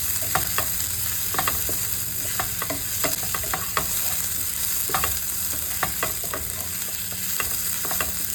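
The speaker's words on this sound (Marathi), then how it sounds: "हे आमी बरें मिक्स करून घेवया." Goan choley masala being stirred in a frying pan: a steady close sizzle runs throughout while a spoon scrapes and taps the pan in irregular strokes, with no voices.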